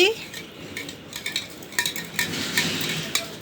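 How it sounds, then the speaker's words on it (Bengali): Spoon stirring saline solution in a glass, giving a string of light clinking taps and swirls against the container, close and fairly clear, with no voices. "এই তো চামচ এখন গুলে নিচ্ছি"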